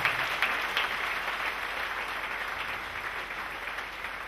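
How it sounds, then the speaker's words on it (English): A church congregation claps for Jesus Christ during a sermon, a continuous roomy wash of many hands at moderate loudness with no single claps standing out. "Clap for Jesus Christ."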